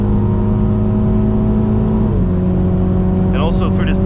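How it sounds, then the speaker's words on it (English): A 2022 MINI Cooper JCW GP Edition with a seven-speed dual-clutch transmission accelerates with a loud, steady engine drone; its pitch dips briefly midway, as at a gear change, before settling again. "it picks up speed great, and you can also hear the sound of the car"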